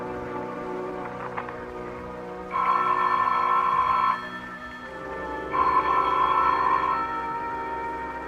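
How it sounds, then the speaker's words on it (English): A telephone rings in a radio drama, two long electronic ring bursts separated by a pause, set against a steady low background hum with no talking. "The telephone sounded like it was ringing miles away."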